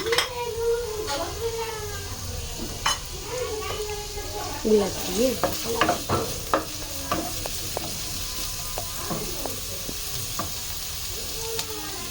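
Noodles stir-fried with onions, chillies and pre-fried eggs sizzle steadily in oil, with a spatula scraping and clattering against the pan in repeated strokes close by.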